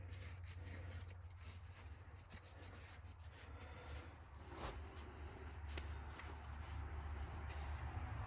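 Steady, continuous scraping and rubbing of a screwdriver against the throttle body of a 2007 Freightliner Sprinter 3.0L diesel, a faint, close, gritty rasp that persists throughout without pauses.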